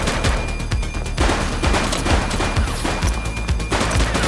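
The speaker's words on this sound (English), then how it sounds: "Shots fired!" Shootout in The Precinct, rapid bursts of loud, close gunfire crackling in quick succession with heavy low thuds, sustained throughout with no talk.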